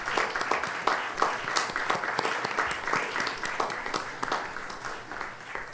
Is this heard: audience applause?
yes